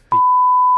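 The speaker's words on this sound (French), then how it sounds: "On va la biper, on va la biper." A single steady censor beep, a pure tone that starts abruptly after a short burst of speech and holds loud and unbroken for most of a second.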